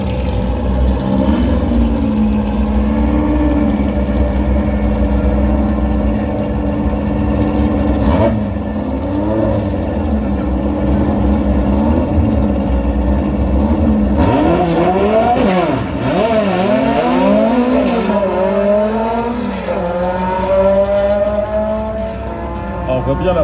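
A Ford drag racing car roars at full throttle on a drag strip, with a loud, sustained engine drone, sweeping pitch rises as it accelerates hard, and a commentator talking over it.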